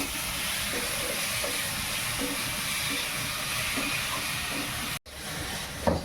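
Diced potatoes fried with a five-spice mix and a little sugar in a pan for a Bengali fish curry give a steady, close, dense sizzle, broken by a brief dropout near the end.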